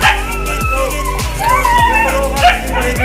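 A dog being vaccinated against rabies lets out repeated high whimpers and yips over a steady low hum, with occasional short barks, close and fairly loud throughout.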